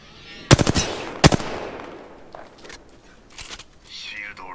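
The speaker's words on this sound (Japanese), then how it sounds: "撃ってるわ。 あっちに 攻撃されている。" Video game battle gunfire: two sharp close bursts of automatic fire early on, then fainter distant shots, with quiet voices talking over the action.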